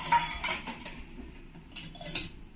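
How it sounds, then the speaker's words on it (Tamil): Metal utensils and dishes clink and clatter during washing up in a home kitchen, with a loud rattle at the start followed by scattered lighter clinks. "பாத்திரம்லாம் கழுவி எடுத்து வச்சுட்டு இருக்கிறேன்."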